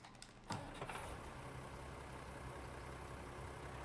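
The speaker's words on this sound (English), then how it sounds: "I want to try this tractor out, and I love the sound." A tractor engine idles steadily in Farming Simulator 25, a low continuous rumble that starts after a brief click and holds at an even level throughout.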